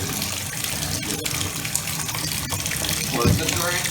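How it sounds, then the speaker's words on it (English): Hot water gushes from a tap into a bathtub, a steady broadband rush running throughout at moderate level, with a brief louder splash near the end. "now first you gotta turn the water up as hot as it goes"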